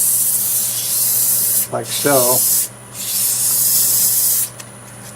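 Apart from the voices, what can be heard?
sanding apple wood bowl on lathe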